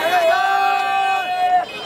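Huge joyful crowd at the Léopold Sédar Senghor military airport in Yoff welcoming Senegal's Africa Cup-winning team, with loud cheering and a sustained shrill whistle or horn over dense crowd noise.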